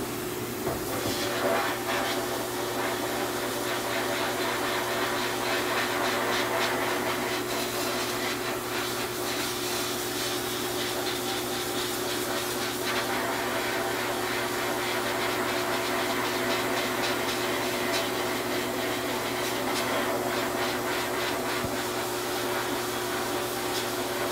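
Media blasting on sheet metal produces a loud, continuous abrasive hiss with a steady mechanical drone underneath, unbroken throughout.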